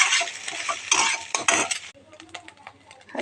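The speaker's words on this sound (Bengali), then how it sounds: "দেখো ডিমটাকে আগে আমি ভেজে নিলাম" Egg frying in a pan for chow mein, with a spatula scraping and clattering against the metal over a soft sizzle, busier at first and then quieter, with scattered light taps.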